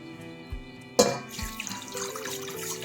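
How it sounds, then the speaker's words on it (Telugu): Water poured into a pan set up with a stand for steaming idlis, a sudden splashing gush that settles into a steady trickling pour at close range. "ఒక రెండు గ్లాసులు నీళ్ళు పోసుకోవాలి"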